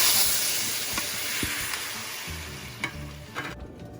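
Tomato chutney ingredients fry in a pan with turmeric powder, giving a steady close sizzle and hiss with occasional stirring clicks and scrapes throughout.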